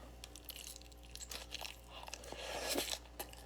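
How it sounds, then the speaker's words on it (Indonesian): Crunchy bean sprouts being chewed up close, with a quick run of crisp, wet crunches and bites that build to a denser cluster near the end, heard alone with no talking. "Saya tuh kunyah kok"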